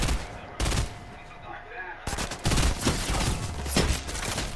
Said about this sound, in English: Justin, you're shooting.